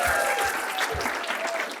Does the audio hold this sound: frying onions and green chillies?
no